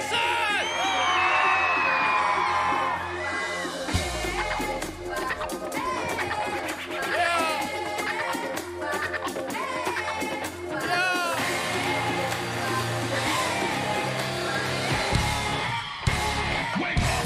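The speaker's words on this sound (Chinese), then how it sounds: "给我最大声的尖叫声！" A festival crowd at an outdoor music festival in Pingtung screams and cheers loudly for a rapper on stage, sustained whoops and yells layered over pounding music, with amplified shouting from the stage throughout.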